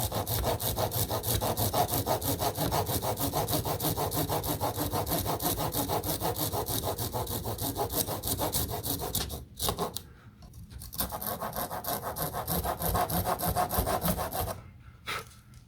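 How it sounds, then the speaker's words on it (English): A hand saw cuts pieces from a board to make rigging plates for a Blackburn Monoplane model aircraft, with steady, close, rasping back-and-forth strokes running for about ten seconds, a brief pause, then more sawing. "So let's just see if we can cut some of this off."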